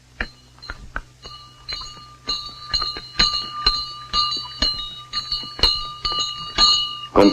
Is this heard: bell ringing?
yes